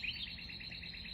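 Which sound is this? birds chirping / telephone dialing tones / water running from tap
birds chirping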